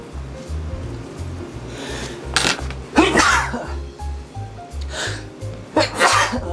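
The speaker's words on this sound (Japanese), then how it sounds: "やばいくしゃみですわ" A sudden, loud sneeze bursts out close by, followed by more breathy sneezing sounds, over a low rhythmic thumping background.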